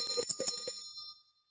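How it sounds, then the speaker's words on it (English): A small bell rings with a bright metallic tone, a few quick struck rings within the first second, then a short fading decay and silence. "thank you very much for that bell, Joe."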